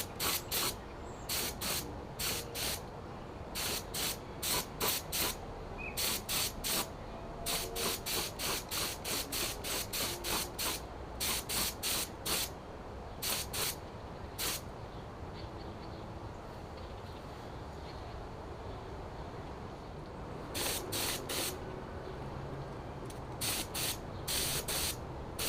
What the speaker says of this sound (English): We'll go get the rest of the components and blow some paint on them.